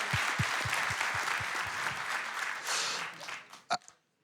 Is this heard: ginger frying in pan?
no